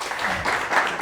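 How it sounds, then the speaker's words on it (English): Audience applause at a talk on video game law, a short burst of steady clapping from a seated crowd, moderately loud and unbroken throughout. "And so give a warm applause to Todd."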